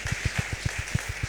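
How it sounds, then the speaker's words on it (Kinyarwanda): A church congregation claps in quick, steady rhythm, each clap evenly spaced and moderately close, forming a brief burst of group clapping with no talk over it. "Mwamfasha tugakomera Imana amashyi"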